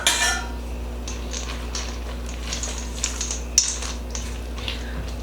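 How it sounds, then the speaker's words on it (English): Flour spooned into a mixing bowl for banana bread, with a few light metallic clinks of spoon against bowl over a quiet steady background hum, close by and with no talking. "I'm just gonna spoon it, so that that extra flour doesn't all get dumped in here"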